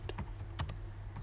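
Brief, quick keystrokes on a computer keyboard, a few light clicks close by over a low steady hum.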